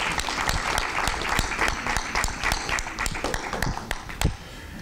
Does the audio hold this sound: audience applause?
yes